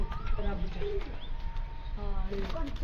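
Domestic pigeons in a new loft setup give repeated soft cooing calls in short bursts, fairly close, over a constant low rumble, with a brief flutter of wings partway through.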